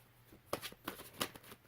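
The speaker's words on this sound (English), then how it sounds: "I'm just shuffling. I like to let the cards come through and like come out of the deck" Tarot cards being shuffled by hand, giving soft papery riffles and flicks in quick irregular bursts, close and quiet with no talking.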